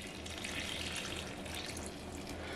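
About 650 grams of lukewarm water pours steadily into the flour for burger bun dough, a continuous soft hiss throughout.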